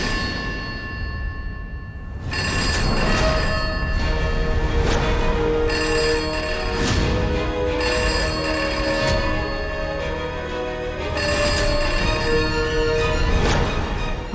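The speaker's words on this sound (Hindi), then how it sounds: "अभी ये घंटी कौन बजा रहा है?" A telephone rings repeatedly in a drama scene, a steady electronic ringtone with bright bell-like pulses that starts after a brief quiet moment and continues loudly through the clip, with no talking.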